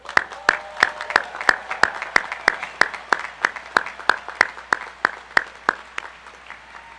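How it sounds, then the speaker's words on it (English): A commencement audience claps in a slow, steady, unison rhythm, with about twenty evenly spaced claps, moderately loud and reverberant, with no speech. "We're going to applaud a lot for you today,"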